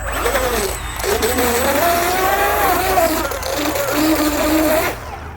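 An electric motor in a 1:20 RC hydroplane boat with a flex-cable drive runs under load with the boat out of the water, giving a steady high whine for about five seconds that shifts slightly in pitch before cutting off.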